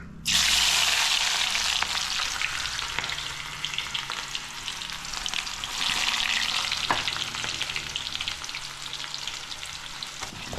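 Ingredients drop into hot oil for a spicy Naga chutney and burst into a loud, steady frying hiss that holds close throughout, with a few faint clicks and no talking.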